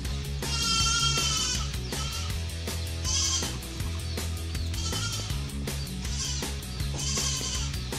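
A buck goat bleats again and again in loud, wavering cries. A steady rhythmic backdrop runs underneath, and nobody speaks.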